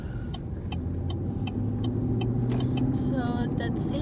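A car moves through Australian rush-hour traffic, its engine hum and road rumble steady and close from inside the cabin, with light clicks and a few beeps on top and voices talking intermittently.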